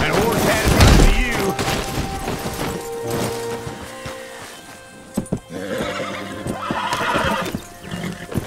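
A horse whinnies loudly near the start in Red Dead Redemption 2, followed by hoof clops and scattered gunfire-like bangs and crashes in a busy game soundscape.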